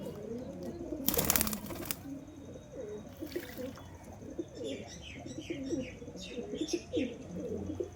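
Pigeons coo softly and repeatedly in low, throaty calls, with brief higher chirps and a short loud rustle partway through, all against a quiet background.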